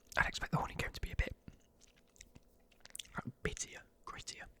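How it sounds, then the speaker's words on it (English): Someone chews a crispy honeycomb truffle with hazelnut pieces in milk chocolate and dark chocolate swirls, close wet crunching and mouth sounds in bursts, with soft whispering between bites. "crispy honeycomb truffle with hazelnut pieces in delicious milk chocolate, finished with dark chocolate swirls"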